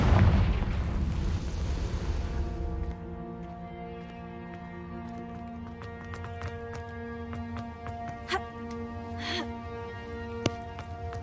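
A Confringo fire spell exploding in Hogwarts Legacy, a loud opening blast that roars for a couple of seconds, then fades into tonal background music with faint magical chimes.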